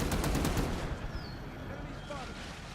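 Gunfire in the Vietnam-era Cold War strategy game Wargame with the Gone Hot 1968 mod, a sniper rifle among the weapons: a dense run of sharp shots early on that thins into a quieter, rumbling battlefield backdrop.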